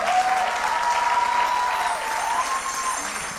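A crowd gives loud, sustained applause at a church gathering, dense clapping steady and near throughout, with a faint tonal whistle or voice drifting above it.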